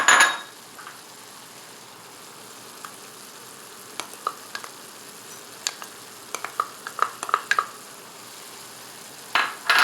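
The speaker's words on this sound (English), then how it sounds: "Let's give this all a nice stir. Get that garlic and the green onion evenly distributed." Beef and broccoli with garlic and green onion being stirred in a pan, giving a low sizzle under scattered clinks and scrapes of a utensil against the pan, clustered toward the end.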